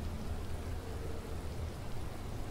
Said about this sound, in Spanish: Y ahora se pone a llover.